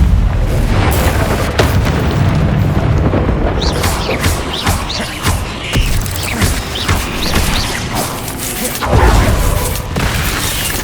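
Confringo fire spells explode repeatedly during a busy Hogwarts Legacy battle, a dense run of loud, close booms and cracking bursts mixed with clattering combat effects and rumble, piling up over several seconds with no speech.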